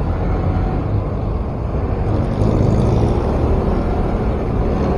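A Samurai 155 motorcycle rides on a road near a memorial park, its engine a steady, loud drone mixed with heavy wind rush throughout, with no talk.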